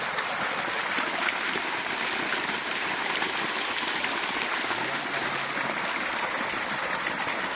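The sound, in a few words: water flowing from a borewell pipe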